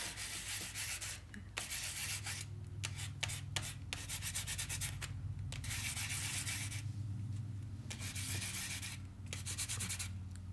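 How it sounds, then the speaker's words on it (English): A relief block rubs steadily over painted jewelry, producing a continuous close scratchy sanding sound with brief pauses between strokes. "Now I'm just gonna hit it with the reliefing block."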